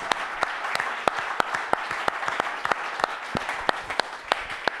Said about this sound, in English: Could we also get a round of applause for YoungArts for having a conversation like this happen?